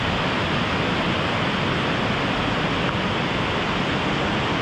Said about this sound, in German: Wundervoller Fluss hier